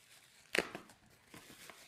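A sharp tearing rip of a sealed plastic bag holding an RC glider wing, followed by softer crinkling and a few smaller tugs, close and fairly quiet.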